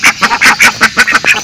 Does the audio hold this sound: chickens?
yes